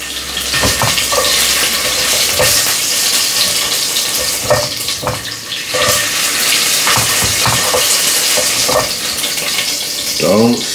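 Lamb pieces searing in a pot for a stew give off a steady, loud sizzle and crackle throughout, with occasional clanks and stirring noises over the frying.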